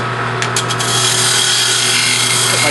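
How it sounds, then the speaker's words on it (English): A wood lathe runs with a steady broadband whir and hum as a parting tool cuts into a spinning wooden turning, with a few brief scraping bursts early on, close and loud throughout. "I take my parting tool,"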